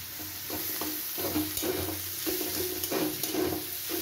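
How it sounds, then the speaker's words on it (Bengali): Garlic fries alongside onion and potatoes in a pan, a constant close sizzle with regular spatula scrapes stirring the mixture every half second or so. "এবার আমি এর মধ্যে রসুনটা দিয়ে দিচ্ছি।"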